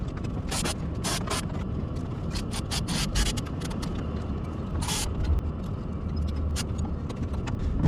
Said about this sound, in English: I'm going to pull this alternator out and put the new one in.